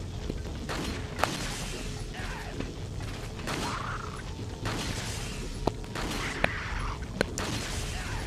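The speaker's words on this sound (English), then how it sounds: "So I think I'm shooting through that helmet, I think." Bursts of gunfire in Resident Evil 4 as shots go through an enemy's helmet: several sharp cracks and booms over a steady, dense game soundscape with mechanical clatter.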